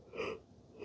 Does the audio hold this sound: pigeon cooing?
no